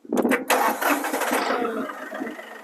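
A Massey Ferguson 1840E tractor engine cranks with a couple of short starter bursts, then catches and runs, loud and close before settling toward a steadier idle.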